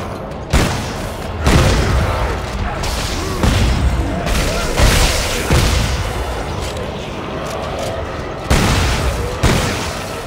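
Heavy weapon fire during a co-op match of Dead Space 3, a run of loud booming shots and impacts at irregular intervals over a dense, rumbling game soundscape.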